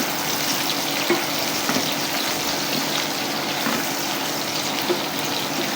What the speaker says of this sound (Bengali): পেঁয়াজটা হালকা বাদামি কালার পর্যন্ত আমরা ভাজতে থাকব